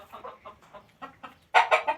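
Chickens in a simple shed clucking close by, a run of short rhythmic clucks that turn louder and more insistent toward the end.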